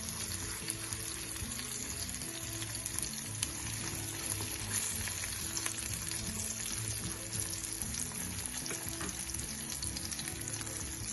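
Salmon pan-frying in a pan, giving a loud, steady, close sizzle that holds unbroken from start to finish with no voices.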